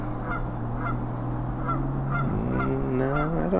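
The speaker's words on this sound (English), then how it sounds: "Are those geese getting ready to leave?" A flock of geese honks repeatedly over a steady low hum, the calls growing busier and overlapping toward the end, moderately distant and free of speech.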